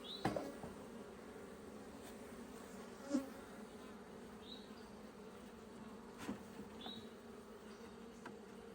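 Honeybees humming inside a newly established hive, a steady low drone running throughout with a few sharper buzzes of individual bees passing close by.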